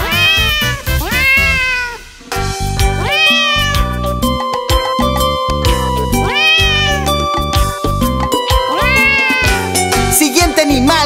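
A cat meows repeatedly, long rising and falling cries recurring every couple of seconds over a bouncy children's farm-animal song with a steady beat underneath.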